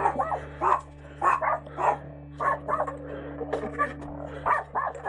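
Close, insistent yapping from a small dog by a trailer, a rapid series of barks with brief growls mixed in, over a persistent low hum.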